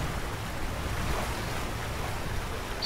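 Wind and breaking waves in the Sailaway sailing simulator game, heard while racing a Volvo Ocean Race leg: a steady, even wash of surf and rushing air with no talk over it.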